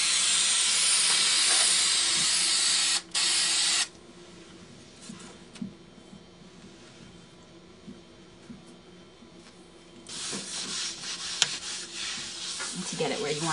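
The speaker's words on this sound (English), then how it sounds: "And you spray the wood and you spray the back of the cloth." Spray adhesive from an aerosol can is sprayed onto wood and the back of a piece of cloth: a loud, close, steady hiss for about four seconds with one brief break, a quieter stretch, then another hissing burst near the end.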